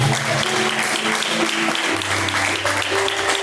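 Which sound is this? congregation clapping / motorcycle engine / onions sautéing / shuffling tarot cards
congregation clapping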